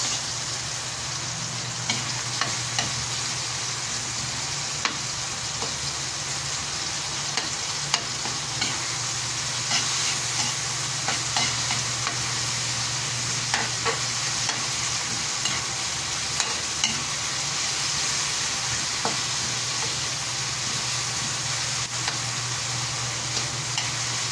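Onions frying in a pan for a soup, with a constant even sizzle over a low hum and small ticking stir sounds scattered throughout, close and unbroken with no talking.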